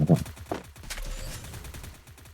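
Gunfire bursts in a ninja-themed online video game, with a few quick shots near the start and then a busy wash of game sound effects, while players talk over it.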